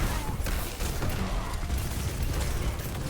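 Mauga's weapons in Overwatch rattle nonstop against Roadhog, a dense, loud stream of gunfire with mechanical clatter and small pops that never lets up.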